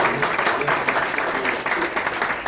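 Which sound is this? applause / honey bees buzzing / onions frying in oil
applause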